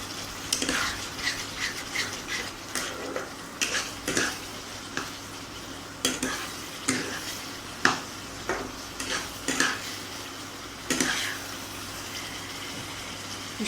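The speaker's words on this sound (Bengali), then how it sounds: "ভাজা মশলাটা দিয়েও মিনিট 5 খুব ভালো করে নাড়ব।" Potato curry with fried spice mix is stirred in a pan, giving repeated rhythmic scraping and wet squelching strokes over a low steady sizzle, close up with no talking.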